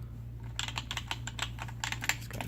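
Typing on a SOONGO mechanical wired gaming keyboard with floating keys and LED backlighting gives rapid, close, crisp clicky keystrokes in an uneven rhythm over a low steady hum.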